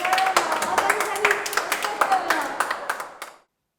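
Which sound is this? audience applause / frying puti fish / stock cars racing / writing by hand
audience applause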